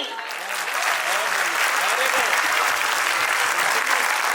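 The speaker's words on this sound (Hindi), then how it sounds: "मुझे तालियां बिल्कुल कम लगी" Audience applause at a school annual function, a dense sustained wash of clapping from a crowd that swells slightly and keeps going throughout, with some voices mixed in.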